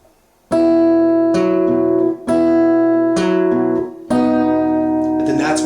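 An acoustic guitar plays a measure of a song: four ringing chord strums, each struck cleanly and left to sustain, close and loud with no talking.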